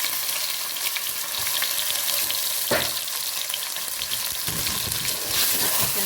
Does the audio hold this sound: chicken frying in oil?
yes